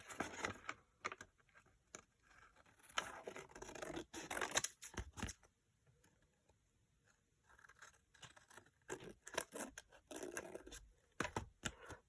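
Quiet, close snipping and paper rustling come in short bursts with pauses between, like small scissors cutting paper.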